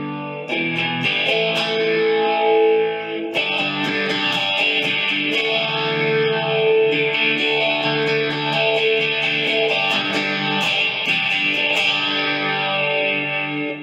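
Electric guitar played through an Iset Cube Baby amp with gain turned down and a modulation effect on, ringing out sustained, shimmering chords with swirling, spacey chorus-like movement, loud and continuous.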